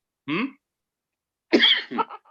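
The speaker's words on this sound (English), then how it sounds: "Are you coughing?" A short single cough, a pause, then a burst of two or three harsher coughs, close and loud.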